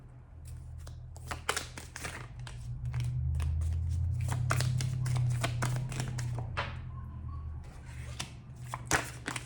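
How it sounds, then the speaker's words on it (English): Tarot cards are shuffled and handled, producing rapid, close flicks and riffling taps, with a soft low rumble swelling in the middle of the stretch. "I'm just going to pause and grab the first card."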